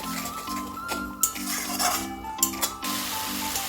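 Cashew paste masala with milk stirred in a pan for prawn malai curry, a spoon scraping and clinking against the metal in short repeated strokes over a faint sizzle and a steady low hum.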